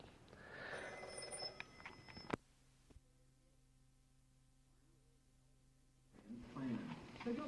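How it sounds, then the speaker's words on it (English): A telephone rings briefly and faintly at the start of a quiet home recording. Then comes a near-silent stretch of low steady hum, with muffled, indistinct sounds returning at the end. "you heard the phone ring"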